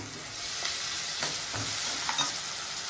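Curry leaves crackle in hot oil over already-fried onions, with a steady broadband sizzle and occasional soft stirring scrapes throughout, close and alone with no talking.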